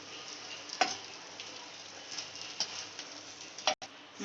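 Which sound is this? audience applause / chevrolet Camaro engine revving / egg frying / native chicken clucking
egg frying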